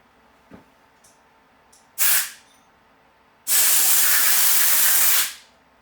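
Compressed-air spray cleaner blasts out the top of an Allis Chalmers D17 tractor carburetor in two loud hissing bursts, a short one then a longer sustained one, after a few faint clicks.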